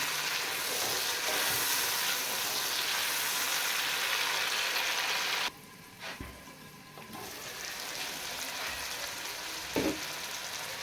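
Slit green chillies frying in hot oil in a karahi, a loud dense sizzle that cuts off abruptly midway, then resumes more quietly with occasional knocks.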